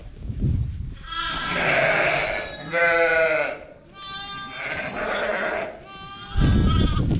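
Sheep in a winter lambing pen bleat in a chorus of loud, close, wavering cries, several overlapping calls one after another with little pause.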